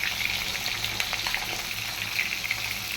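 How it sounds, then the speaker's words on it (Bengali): Catla fish frying in a pan, a dense continuous hiss and crackle of hot oil, close and steady with small spatters. "এক পাশে মাছ ভাজা হয়ে যাচ্ছে"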